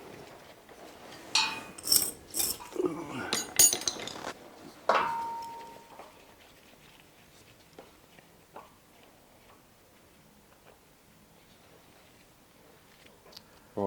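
Small nuts being worked off a pipe clamp half on a Rolls-Royce Meteor 27-litre V12 tank engine, a cluster of close metallic clinks and taps over the first few seconds, then sparse faint ticks.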